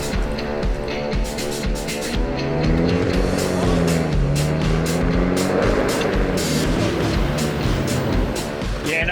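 A 4x4 grinding up a steep hill at night, its engine straining and revving loudly and continuously with rising and falling tones, tires scrabbling, and faint voices in the background.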